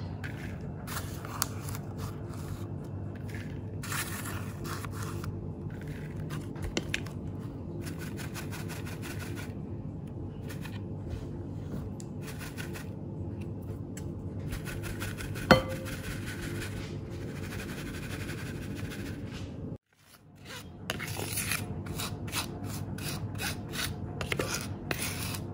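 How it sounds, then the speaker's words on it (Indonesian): Icing sugar is sifted through a sieve, a steady soft rasping and rubbing that runs continuously and close by, briefly stopping near the end before resuming, with no talk. "Nah ini aku pakai gula ini ya, icing sugar. Aku ayak dulu"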